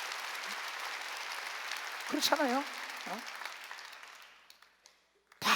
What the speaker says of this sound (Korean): 박수 치려면 세게 더 치시고